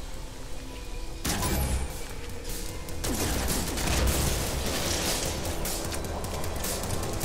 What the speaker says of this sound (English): let's go ahead and get our bolt caster out